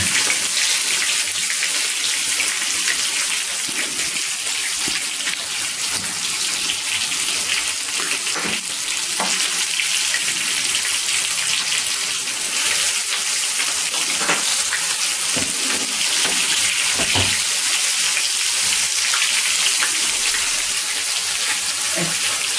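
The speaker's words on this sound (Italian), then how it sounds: "Allora aspettiamo ora quando si friggono bene." Sardines frying in hot oil in a home kitchen for sarde a beccafico, a dense, continuous sizzle with steady crackle and spitting heard close up for the whole stretch, with no talking.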